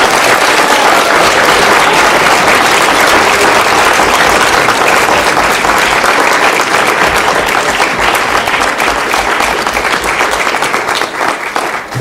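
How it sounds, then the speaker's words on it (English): A loud, sustained round of applause from a school audience for the winners of an elementary spelling bee, thick continuous clapping that holds for the whole stretch and tapers slightly at the very end. "can we have a big round of applause for our 5 winners?"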